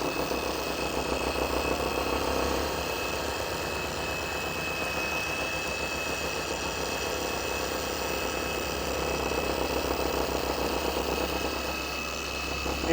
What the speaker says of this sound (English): Turn the speed all the way down of the polisher to the first speed setting.